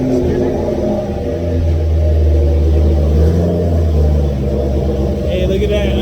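A car engine running on E85 fuel just after its first start-up, fitted with a new McLeod RXT clutch and MT82 gearbox, gives a loud, steady low rumble with a slight rise in revs while people talk nearby.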